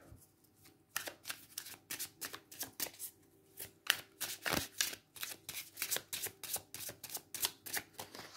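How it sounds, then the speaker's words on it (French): Tarot cards being shuffled up close, a quick run of crisp riffling bursts repeating in a steady rhythm with no voices. "On va prendre 3 cartes du tarot."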